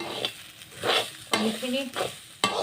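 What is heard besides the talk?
frying and stirring food in a pan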